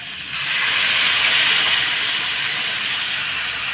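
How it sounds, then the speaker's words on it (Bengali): Water is poured into a hot wok holding potatoes, setting off a sudden, loud hiss of steam that quickly swells and holds steady, close and uninterrupted, with no speech. "এখন আমি জল দিয়ে দেবো"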